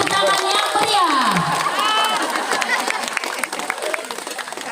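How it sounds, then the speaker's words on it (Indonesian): Audience at a school expo opening clapping after a ribbon cutting, mixed with cheering, shouts and excited voices from a lively nearby crowd. "Kasih tepuk tangan yang meriah."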